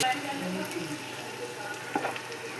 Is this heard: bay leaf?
yes